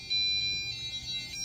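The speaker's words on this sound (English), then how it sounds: "And now it's blinking and playing a tone, indicating the alarm is active." Security alarm system sounding its armed-state alert tone after a wrong PIN is entered three times: steady high-pitched electronic beeping in pulses, close and fairly loud over a low background hum.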